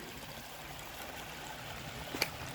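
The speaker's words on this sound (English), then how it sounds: "All right, beautiful little stream here." Small creek along a wooded Appalachian Trail section, flowing steadily with a soft continuous wash of water, faint and even throughout, with one brief brighter splash near the end.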